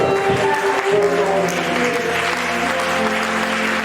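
A church congregation applauds, a dense and steady clapping that stays loud throughout, with a voice faintly audible beneath it.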